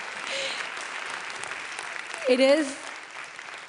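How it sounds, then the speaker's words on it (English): An audience at a summit event in Lyon applauds in a soft, steady patter, while a voice speaks over it briefly. "yes, you can applaud them."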